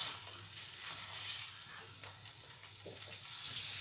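Chicken breast cooking in a little oil in a pan over a low flame gives a steady, soft sizzle that holds evenly throughout, with no voices.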